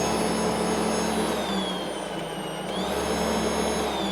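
An EGO 56V cordless 21-inch electric snow blower runs steadily with a loud, smooth electric whine, and its variable-speed auger audibly dips and then rises in pitch partway through.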